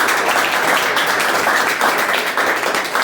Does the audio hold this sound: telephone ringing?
no